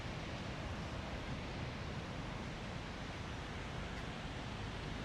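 Ocean waves at a beach in Da Nang during rainy season, a steady broadband roar of surf without distinct breaks, with no voices.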